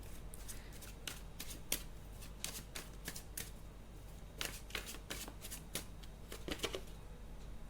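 Tarot cards are shuffled and drawn by hand in a quiet room, giving a string of crisp, close riffling snaps and slaps at an uneven rhythm with no talking.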